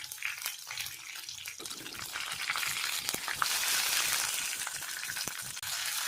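Brinjal pieces sauté in hot oil with a crackling sizzle that builds from faint to fuller. Occasional utensil scrapes and taps punctuate the frying, which stays fairly close but quiet overall.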